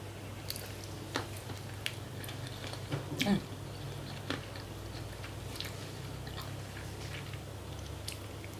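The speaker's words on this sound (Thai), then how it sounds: "ขออนุญาตกินตำตีนไก่" Someone eats a spicy Thai papaya salad made with chicken feet. Close, wet chewing and occasional crunchy bites come in irregular bursts, with some soft vocal sounds mixed in.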